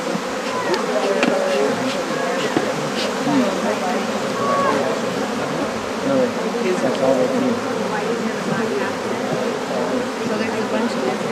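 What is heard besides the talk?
honey bees buzzing around a hive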